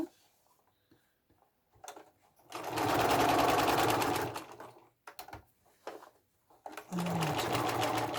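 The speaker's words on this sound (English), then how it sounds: "now sew in about an inch and a half to catch that down" A sewing machine stitching fabric in two steady running bursts, close and fairly loud, separated by quiet handling and short pauses.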